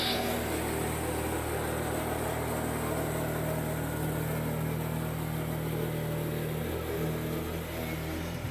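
Motorcycle sidecar engine idling steadily while it warms up, a low continuous rumble heard alone at moderate distance with no change in pitch.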